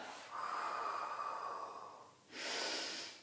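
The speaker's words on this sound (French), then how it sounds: "inspire à temps et souffle" Someone doing a Pilates exercise breathes deeply and close to the microphone: one long, airy breath, a short pause, then a second strong exhale.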